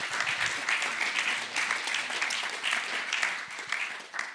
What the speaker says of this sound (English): Please give us a wonderful round of applause for all of them.